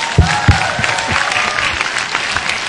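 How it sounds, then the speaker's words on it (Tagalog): A large crowd at a religious gathering claps loudly and continuously, a dense wash of applause with a few louder claps close by. "Kaya lakas-lakasan yung palakpak nyo."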